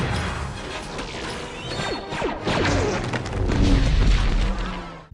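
Star Wars battlefield with clone troopers and droid forces, blaster fire zipping in quick descending streaks over crashes and booming impacts, a loud chaotic barrage that swells toward the end.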